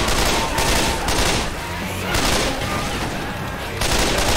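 Loud bursts of firework explosions in the video game Left 4 Dead 2 pop and crackle in repeated waves, close by over a busy soundscape.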